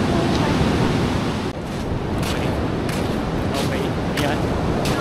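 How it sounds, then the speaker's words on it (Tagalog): Ocean waves at a seashore roll in as a constant loud wash of surf, buffeted by heavy wind noise on the microphone, with faint speech in the background. "Nandito kami sa seashore."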